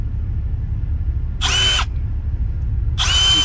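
Two short bursts of a power drill whirring at high speed on its second speed setting, about 2900 RPM, each about half a second, over a steady low background rumble.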